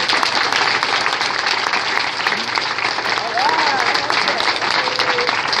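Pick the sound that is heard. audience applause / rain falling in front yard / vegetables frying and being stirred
audience applause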